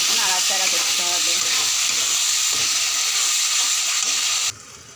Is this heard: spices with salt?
yes